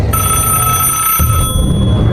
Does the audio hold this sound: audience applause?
no